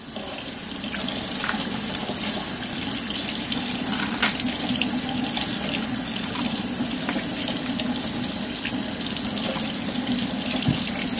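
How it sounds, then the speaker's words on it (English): Leeks being washed under a running kitchen faucet, a steady continuous gush of tap water splashing into a sink, loud and close for the whole stretch with no talking. "I got these leeks right here. And what I gotta do is wash them."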